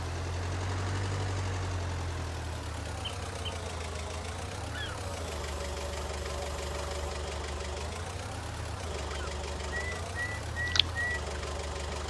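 A forklift engine in a farming video game runs at a steady idle, a continuous mid-pitched drone with a faint whistle, holding even throughout with no talk over it.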